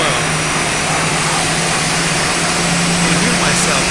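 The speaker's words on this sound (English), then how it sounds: "when you come close to the engine, what happens? You hear it really loud, right?" A steady, loud aircraft engine roar heard up close in the X-Plane flight simulator game, a dense unbroken drone with no pauses.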